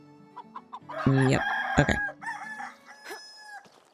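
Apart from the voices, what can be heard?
chickens clucking and rooster crowing in Medieval Dynasty video game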